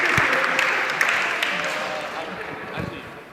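An audience at a community arts school presentation breaks into sustained applause, a dense wash of clapping that starts strong and slowly tapers off over a few seconds.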